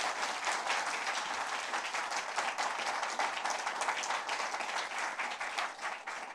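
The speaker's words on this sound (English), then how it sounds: "let's clap for ourselves that we went through the high school" Loud, sustained applause from a talk-show audience celebrating finishing high school, a dense steady wash of clapping that fills the whole stretch without letting up.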